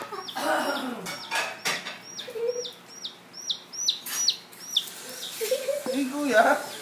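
Chicks peeping in a run of high, short downward chirps, mixed with hen clucking and occasional soft voices talking nearby.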